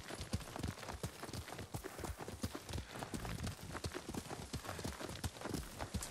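Rapid, rolling hoofbeats of a horse galloping in the video game Ghost of Tsushima, a dense continuous drumming that stays soft and steady throughout.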